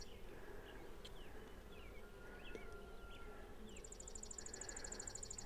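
Honey bees hum steadily during a hive inspection after overwintering, a faint continuous drone of many insects with a few brief buzzes passing close.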